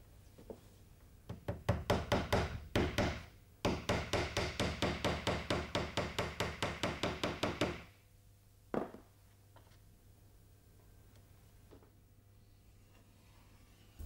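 Wood paneling boards are nailed in place with a hammer: a run of quick, sharp blows, then a long fast steady series of close, loud strikes, and one last isolated knock after a pause.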